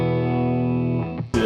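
An electric guitar played clean with no compressor pedal, one sustained chord ringing loud and close before a fresh strum at the end.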